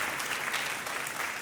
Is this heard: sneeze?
no